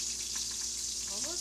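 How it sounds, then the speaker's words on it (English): Sausage fries in a pan nearby for a breakfast crescent ring, making a steady, even hiss. A voice briefly sounds near the end. "Hear that sausage over there?"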